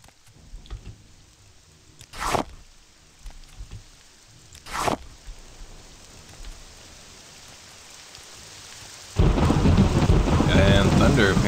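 Thunder in The Elder Scrolls III: Morrowind game rumbles in two sharp cracks over soft background noise, then heavy rain bursts in loudly and keeps pouring steadily.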